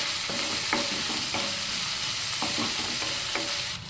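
Onions, green chillies and fresh curry leaves sizzle steadily in a pan for a pumpkin curry, with a spoon scraping and stirring in several distinct strokes over the constant frying hiss.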